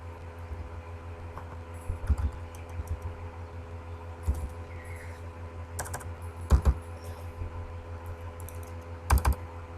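Computer keyboard typing code for a simple calculator program, steady light key clicks with a few louder bursts over a low fan hum, close by with no talking.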